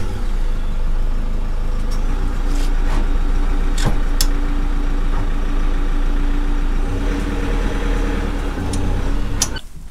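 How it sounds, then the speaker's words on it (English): A motorhome engine rumbles steadily up close as the vehicle creeps forward, a low, continuous drone broken by a few sharp clicks and knocks. "I'm just gonna drive the motorhome forward a little bit"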